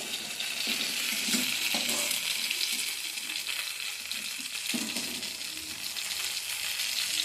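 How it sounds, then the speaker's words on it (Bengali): Onions sizzling steadily in a hot pan as they are stirred and turned, a constant close hiss with occasional soft scraping knocks of the spoon, no talking. "পেঁয়াজগুলো আমি একটু নেড়ে নেবো, একটু লালচে ভাব আসলে আসা পর্যন্ত আমি পেঁয়াজগুলোকে নাড়াচাড়া করতে থাকবো।"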